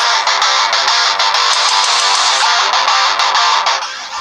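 A Jiayu S3 phone plays its ringtone through the built-in speaker, a loud, steady, bright melody with rapid repeating notes running continuously and close by, without talk.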